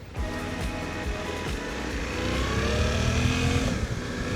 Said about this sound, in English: Very smooth engine output.